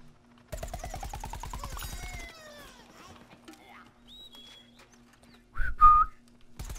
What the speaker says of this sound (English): My whistling's bad.